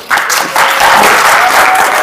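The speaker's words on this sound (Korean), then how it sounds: "지금부터 여러분의 힘찬 박수로 시작하도록 하겠습니다" Audience in a small theater bursts into loud, sustained clapping to open a candidates' election debate, many hands together in a dense, continuous roar.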